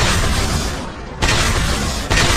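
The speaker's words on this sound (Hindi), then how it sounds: "धमाका है।" A loud, sustained roaring blast with broadband rumble from an anime episode, dipping briefly then surging again twice, like a big explosion and its aftershocks.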